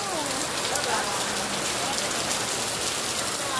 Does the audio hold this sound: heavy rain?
yes